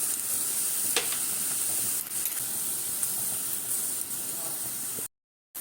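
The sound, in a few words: shrimp frying in pan for stuffed pointed gourd dolma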